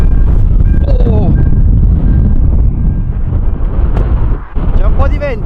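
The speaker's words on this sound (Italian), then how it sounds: "C'è un po' di vento? Un po' di vento!" Strong wind buffets the microphone on Vágar in the Faroe Islands, a loud, continuous low roar that runs through the whole stretch, with voices talking and exclaiming over it.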